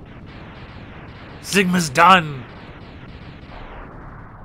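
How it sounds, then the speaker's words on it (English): A loud explosion in the video game Mega Man X, two heavy booming bursts in quick succession over a low rumble, with a voice exclaiming just before. "That's how we knew it's a super explosion."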